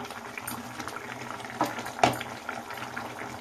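A katla fish curry with whole green chillies simmers in a pan, giving a low continuous bubbling with a couple of louder bursts, close and moderate.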